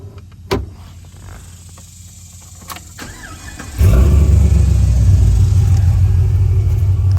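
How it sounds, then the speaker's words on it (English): A few clicks and a brief whir, then a 2005 Pontiac GTO V8 engine cranks and catches with a sudden loud roar, settling into a deep, heavy, rumbling idle. "Let's start it up again and take a look at the engine."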